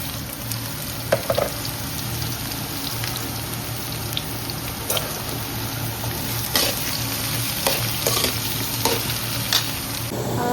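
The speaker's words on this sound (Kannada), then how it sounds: "ಕಾಳು ಎಣ್ಣೆಲ್ಲ ಹಾಕ್ಕೊಂಡಿದ್ದೀನಿ." Seeds fry in oil while a radish dish is being made. The sizzle is a steady, close crackle with scattered pops, and light stirring clinks run through it for about ten seconds.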